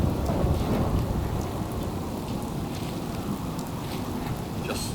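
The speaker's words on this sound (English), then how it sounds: "Just thinking how wonderful it would be to get out of this infernal rain." Steady rain with low thunder rumbling in the video game Fallout 4, a dense continuous wash of falling water with a heavier swell at the start, with no voices.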